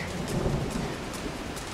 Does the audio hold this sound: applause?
no